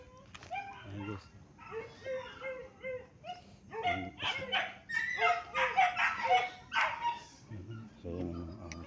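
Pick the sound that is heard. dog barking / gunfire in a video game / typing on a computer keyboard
dog barking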